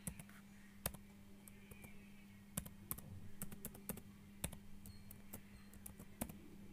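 Password being typed on a Lenovo laptop keyboard: sparse, irregular keystroke clicks, close and fairly quiet, over a low steady background hum, with no talking.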